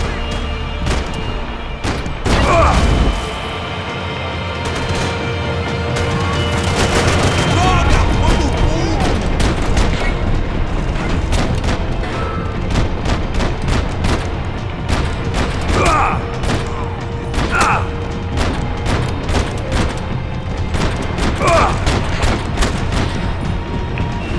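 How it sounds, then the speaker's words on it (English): Grenade launcher blasts and gunfire from the Max Payne 3 video game ending, sounding as loud booms and scattered shots over a dense, noisy action backdrop, with intermittent sharp bursts throughout. "Grenade launcher."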